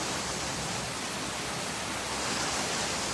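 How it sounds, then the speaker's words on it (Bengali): Steady, dense hiss of rain falling in Narayanganj, an even wash of noise that stays constant and fairly faint from start to finish, with no talking. "দেখেন কি সুন্দর বৃষ্টি"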